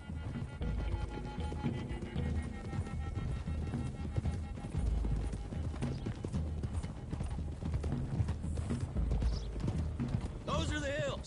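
Horses gallop in Red Dead Redemption 2, a dense continuous patter of clip-clopping hooves from several mounts, with a whinny near the end and voices speaking over them.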